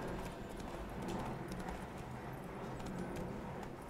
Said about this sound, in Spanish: Pero eso de andar a caballo